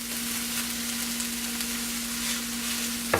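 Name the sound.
mushrooms added to frying onions in a pan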